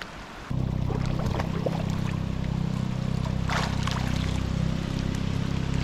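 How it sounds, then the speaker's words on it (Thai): A boat engine drones steadily nearby on a river after a brief quiet start, with water lapping and trickling faintly underneath. "ก็จะมีเสียงเรือ"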